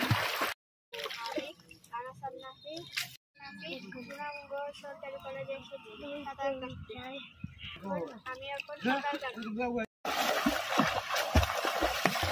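Five-year-old child learning to swim in a government college pond in Sunamganj, with irregular water splashes and sloshing close by, mixed with adults talking and calling out throughout.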